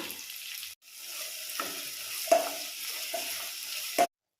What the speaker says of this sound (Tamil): அந்த ஹோல் ஸ்பைஸ் எல்லாமே நல்லா பொரிஞ்சதுக்கப்புறமா வெட்டி வச்ச வெங்காயம் ஆட் பண்ணுறேன்